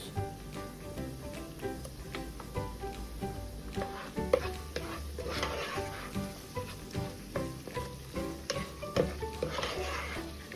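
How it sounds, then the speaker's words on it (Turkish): Bulgur and green tomatoes sizzle steadily in butter in a pot while a utensil stirs and scrapes, with soft clinks and a constant frying hiss throughout. "tereyağlarla da birlikte şöyle bir çevirdikten sonra"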